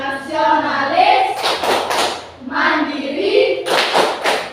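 Group rhythmic clapping by standing participants doing the Indonesian tepuk PPK cheer, sharp bursts of claps in two patterned rounds alternating with a woman leading the chant.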